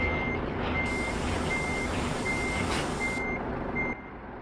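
Reversing beeps from a truck coupling a trailer in Euro Truck Simulator 2, a steady train of evenly spaced high beeps, about six in all, over a constant engine rumble, with no talking.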